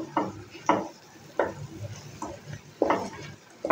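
Okra coated with turmeric and dry chili powder is sautéed in a pan, with a soft sizzle and a series of spoon strokes scraping and knocking against the pan.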